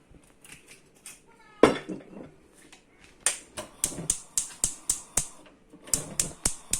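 Knife strokes chopping mushrooms on a board for a vegetarian dish, a loud first hit followed by a steady run of sharp, evenly spaced taps up close.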